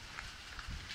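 Rain falls outdoors at a scrapyard, a steady soft patter of drops on surfaces over a brief moment.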